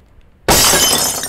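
Glass smashed with a rock in the horror game Nun Massacre: one sudden loud shatter that bursts out of near silence and rings on as a bright, sustained spray of breaking shards.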